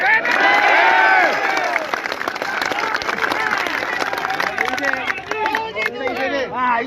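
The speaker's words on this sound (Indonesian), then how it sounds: "Tepuk tangan untuk PBB." Crowd at a street demonstration in Medan clapping and cheering, a loud swell of applause with shouts and whistles that thins into chatter and calls as people talk over it.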